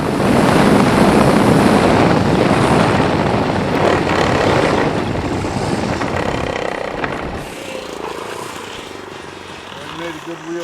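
A 1/4 scale Aeronca Champ model plane with a Saito 1.20 four-stroke engine comes in to land, its buzzing drone loud and wind-buffeted, then dropping away to a softer idle; people talk over it.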